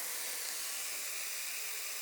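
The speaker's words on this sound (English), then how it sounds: "you're gonna hear this awesome sizzling sound" A steady, bright sizzle of chicken frying in a pan over medium-high heat, close and continuous with no voices.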